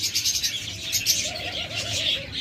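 Dove cooing at a bird seller's breeding cages, a soft rolling coo rising after a second over a steady busy hiss of other small birds chirping.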